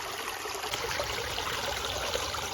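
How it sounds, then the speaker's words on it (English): A small garden waterfall pours steadily beside a deck, giving a continuous close splashing and trickling of water with no voices. "and right beside our little waterfall"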